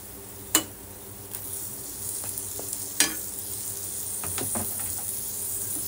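Tomatoes hit a pan of masala for Maharashtrian stuffed brinjal: a soft, steady sizzle with scattered sharp clicks and scrapes of a spoon stirring against the pan, two brief louder knocks, no voices.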